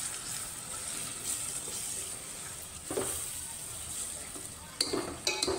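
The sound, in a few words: stirring and sautéing onion tomato paste for misal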